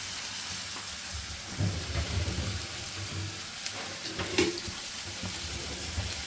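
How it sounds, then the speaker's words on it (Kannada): Onions fry in oil while being stirred, producing a steady crackling sizzle with occasional scraping and clinking of the spoon against the pan. "ಈರುಳ್ಳಿ ಹಾಕ್ಕೊಂಡು ಎಣ್ಣೆಗೆ ಅಲ್ಲಾಡಿಸ್ತಾ ಇರ್ಬೇಕು ಹಿಂಗೆ."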